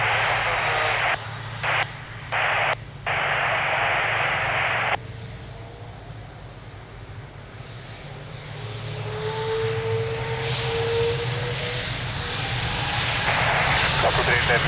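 An airliner's engines roar loudly during takeoff at Lisbon Airport. The noise is a broad steady rumble that eases, then builds again with a rising whine, while radio voices cut in briefly at the start.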